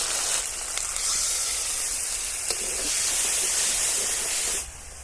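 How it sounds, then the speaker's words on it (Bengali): Spices, white mustard paste and black mustard paste sizzle steadily in hot oil for a yam (ol) dish, a loud, continuous close hiss that cuts off near the end. "ফোড়নগুলো একটু এক মিনিট মতো একটু গরম তেলে মেলে নেব সাদা সরষে বাটা কালো সরষে বাটা"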